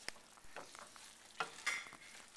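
Parmesan being stirred into risotto rice in a pan, heard as soft, quiet scraping and a few sharper spoon clinks against the pan, with a faint sizzle underneath.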